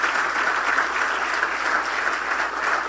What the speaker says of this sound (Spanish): dale un fuerte aplauso al Todopoderoso